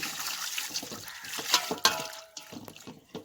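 Broccoli being washed in water, with soft splashes, drips and trickling, plus a couple of brief clinks, close and fairly quiet.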